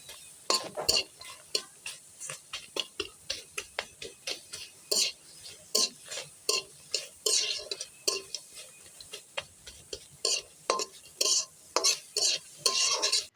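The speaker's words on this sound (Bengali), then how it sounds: "চুলাই কড়াই বসিয়ে দিয়েছি আর তার মধ্যে দিয়ে দিব পেঁয়াজ কুচি একটা রসুন থেতো করে নিয়েছি আর দিয়েছি তেজপাতা এখন এগুলোকে ভালোভাবে করে ভেজে নিতে হবে" Chopped onion, crushed garlic and a bay leaf are fried in a wok for a raw jackfruit curry, with a long run of regular spatula scrapes and taps against the metal over a faint sizzle, close and unaccompanied by talk.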